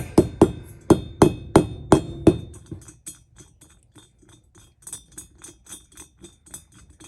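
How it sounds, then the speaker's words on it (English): A mallet taps a washer into place on a Honda XR650L motorcycle engine during a cylinder rebuild, with a rapid series of close, sharp knocks that start firm and grow lighter and quicker. "stick the washer there. Here's my trusty mallet"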